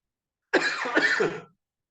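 A dry, rasping cough in two quick bursts, close and fairly loud, with silence before and after.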